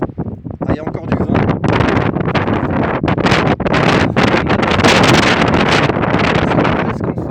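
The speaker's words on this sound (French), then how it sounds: "Ah, il y a encore du vent." Strong wind on the summit of Mont Bugarach buffets the microphone in loud, continuous roaring gusts that swell and dip, with someone speaking briefly at the start.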